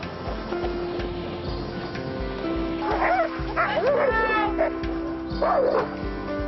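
Sled dogs in the Arctic yip, whimper and give short barks in scattered bursts over a constant low rumbling background, moderately close.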